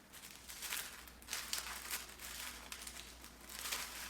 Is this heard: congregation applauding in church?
no